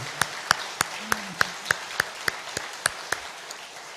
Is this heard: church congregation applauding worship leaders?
yes